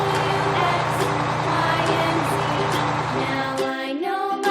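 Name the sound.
bulldozer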